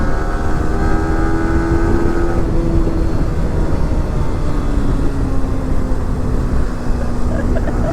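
A motorcycle on a test ride gives off a loud, steady engine roar mixed with rushing wind noise, and a faint tonal whine glides slowly down in pitch as it moves along.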